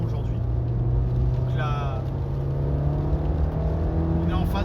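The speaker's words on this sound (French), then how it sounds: "une fois que le moteur monte en régime, on sent qu'il est un petit peu plus bruyant" A petrol four-cylinder Peugeot 206 1.4-litre, 75 hp, hums steadily from inside the cabin as engine speed climbs, a constant low drone with someone speaking over it throughout.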